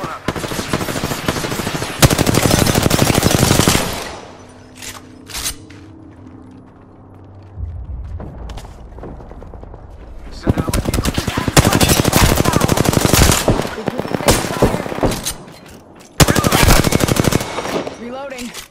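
Rapid automatic gunfire in a shooter video game comes in long loud bursts separated by quieter gaps with a few isolated shots.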